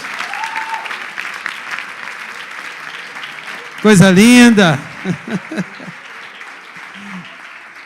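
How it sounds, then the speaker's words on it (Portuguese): Church congregation applauding during a celebration service, a steady bed of clapping under which someone speaks briefly and voices chuckle, the applause continuing throughout. "Vamos aplaudir mais forte, né, irmãos?"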